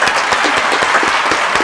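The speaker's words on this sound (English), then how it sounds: "Let's clap it up for Mira." Audience applause for a contest winner at a campus talk event: brisk, steady clapping from a small crowd, close and continuous throughout.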